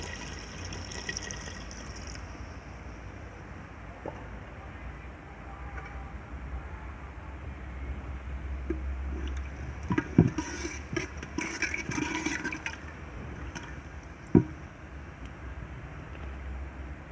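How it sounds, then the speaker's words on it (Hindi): Water poured into a cooking pot of cholay gosht with chickpeas and meat, a steady splashing rush that builds into a busier gurgle partway through, ending with a sharp clink, close and alone. "अब हम इसमें पानी डालेंगे।"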